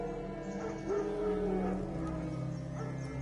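Wild dogs bark and yip in The Witcher 3 video game, a soft, fairly distant run of barks and whimpers layered over the steady game ambience, with no talking.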